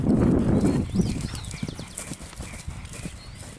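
A horse's hooves clip-clop on slippery, rain-soaked grassy ground, with steady, close footfalls that shift slightly unevenly as the heavy animal moves.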